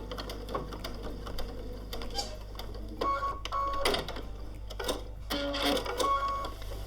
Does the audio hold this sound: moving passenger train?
no